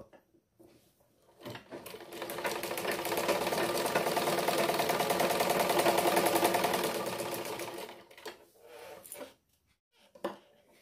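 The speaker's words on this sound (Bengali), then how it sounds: "ঠিক মাঝ বরাবর দিয়ে আমি সেলাই করব" A sewing machine stitches down the middle of a folded lungi hem, running in a continuous rapid whirring rattle for about six seconds, with quiet handling clicks before and after.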